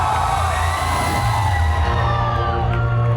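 A stage-event audience roars for actor Nana Patekar, with steady, loud crowd cheering, whoops and yells forming a dense, continuous wall of noise throughout.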